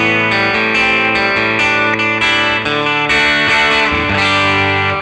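Electric guitar played through a Deluxe Reverb amp simulation, with a Virtual Jeff Pro pitch shifter and Virtual Capo dropping it a tone. Loud, sustained, ringing chords and notes, played alone.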